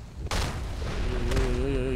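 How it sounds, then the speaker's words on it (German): A single deep explosion in the fantasy role-playing game Enderal, a sudden loud boom followed by a long rumbling decay, with faint tonal game sounds underneath. "Das war eine Explosion."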